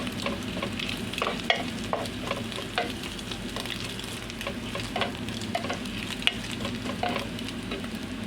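Garlic sizzles steadily in a pan for rice-based mekus-mekus fried rice, a continuous crackling fry broken by scattered clicks and light scrapes of stirring, close and moderately loud with no voices.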